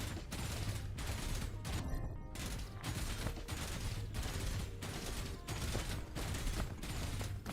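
Enemy gunfire from a respawned base in Dyson Sphere Program: steady rapid bursts of shots with short gaps between them, dense and continuous at moderate distance, with no talk.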